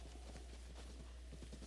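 A horse gallops up in Zelda: Breath of the Wild, with soft, rapid hoofbeats over a steady low background hum.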